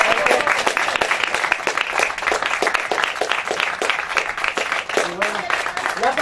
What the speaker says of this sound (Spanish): Hazle un fuerte, un gran aplauso a él, por favor.